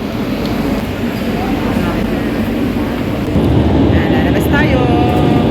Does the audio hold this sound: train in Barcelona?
yes